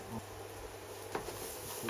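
Spices frying in a pan of oil for curry, giving a soft, steady sizzle with a faint hum underneath and a couple of light clinks from a utensil, heard close up.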